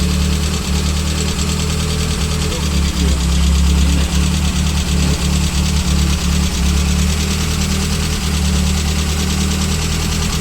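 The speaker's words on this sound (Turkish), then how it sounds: "Şu an yine birazcık hafif rölantisi düşük çalışıyor." A restored classic car engine idles loud and close with a slightly low, uneven idle, a steady mechanical rumble throughout with faint knocking.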